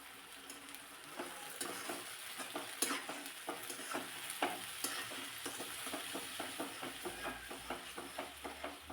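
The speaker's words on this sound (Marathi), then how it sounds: "याचा कच्चा स्मेल जाईपर्यंत हे छान असं परतून घ्यायचे" Onion sautéing with a tomato, ginger and garlic puree, a soft continuous sizzle broken by regular stirring scrapes of a spoon against the pan, fairly quiet and close with no talking.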